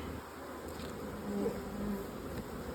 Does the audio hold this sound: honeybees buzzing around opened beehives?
yes